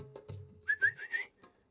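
A game character in Genshin Impact whistles to birds: a few short, bright whistled chirps in quick succession, close and fairly clear, with a soft low hum beneath.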